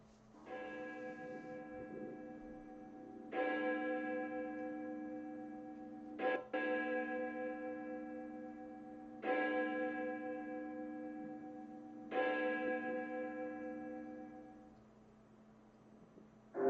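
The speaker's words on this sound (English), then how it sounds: "We hearing the bells?" Church bells ringing in slow, evenly spaced strokes, each one a bright resonant clang that decays over a few seconds, about five strikes in all, heard alone with a distant hum behind them.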